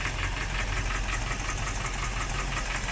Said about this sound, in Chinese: 这就是发动机内部传出的敲缸异响声